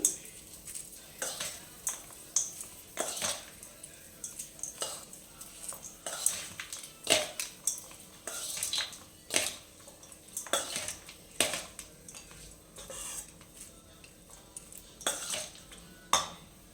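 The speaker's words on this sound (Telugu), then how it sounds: "ఇది మొత్తం కలిసేటట్టు బాగా కలుపుకోవాలండి" A spoon stirring lemon rice together with its oil tempering in a pot: repeated metallic scrapes and clanks against the vessel in an irregular rhythm, with faint sizzle underneath, close and fairly quiet.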